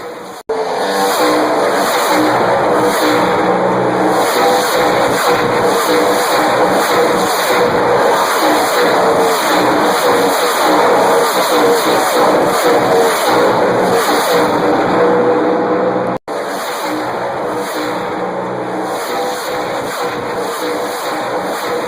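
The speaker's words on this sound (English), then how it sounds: "videotapes that I've got of the cars coming down the backstretch there, and they go by so quick" NASCAR race cars roar down the backstretch in a loud, continuous engine blare that barely lets up, with a brief cut near the end before the noise resumes.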